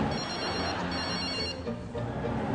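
A telephone rings steadily and loudly for a few seconds at a televised beauty pageant, with no speech over it.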